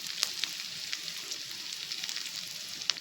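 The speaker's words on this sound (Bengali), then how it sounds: "শুধু ওই পেঁয়াজগুলো দিয়েই কষা হবে" Onions sizzling and frying in a pan while being sautéed for a jackfruit curry, a steady close hiss with occasional sharp crackles and pops, no talk.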